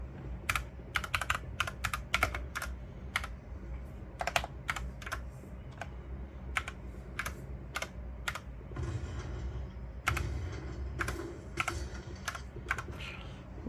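An IP address is typed on a computer keyboard in quick, irregular bursts of close key clicks, with pauses between groups and a busier run near the end. No one speaks.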